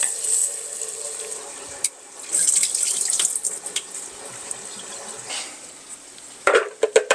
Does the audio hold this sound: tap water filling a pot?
yes